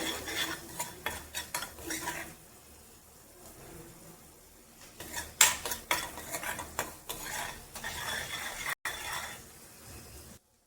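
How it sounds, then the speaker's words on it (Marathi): A spoon stirs fried onion with salt, turmeric and red chilli powder in a pan, making repeated scraping clinks of metal on the pan over a low sizzle, with a quieter pause partway through. "ह्याच्यामध्ये बेसिक मसाले टाकायचे, मीठ, हळद आणि आपलं लाल तिखट जे असतं ते टाकलेलं आहे. थोडं परतून घेते."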